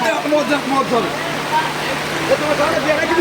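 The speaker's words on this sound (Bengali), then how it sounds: "বৃষ্টি হচ্ছে" Heavy rain falls steadily outdoors in Nishchintapur, where covered equipment stands during a sound-system teardown; a dense, continuous hiss runs under nearby voices talking.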